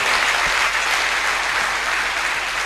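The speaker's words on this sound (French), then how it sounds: "Acclame Jésus-Christ." A church congregation bursts into steady, full applause during a healing testimony service, a dense wash of clapping hands that stays loud and even throughout.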